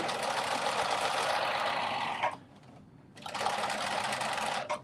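A home sewing machine stitching a seam runs in a steady fast whir, stops briefly for about a second, then runs again at the same even speed, close and loud with no talking.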